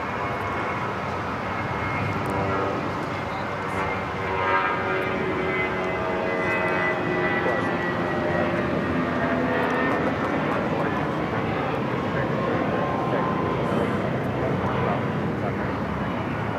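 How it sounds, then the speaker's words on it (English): A Volaris Airbus A320 takes off from LAX bound for Guadalajara, its engines a steady, broad roar that holds for the whole stretch, with muffled voices underneath. "This is Volaris 1719 taking off to Guadalajara on the A320"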